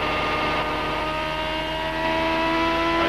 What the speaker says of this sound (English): You can hear that engine hitting the rev limiter.